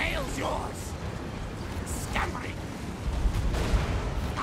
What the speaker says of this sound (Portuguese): Continua dando uns tiros ali em cima.